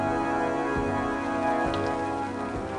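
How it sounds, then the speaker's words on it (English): Steady rain falls continuously, a dense even hiss with faint low thumps every second or so, no voices. "It rained and it rained."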